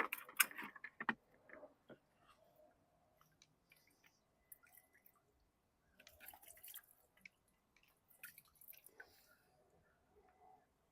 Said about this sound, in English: It's spilling fuel.